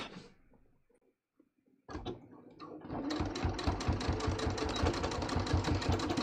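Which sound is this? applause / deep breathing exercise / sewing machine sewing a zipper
sewing machine sewing a zipper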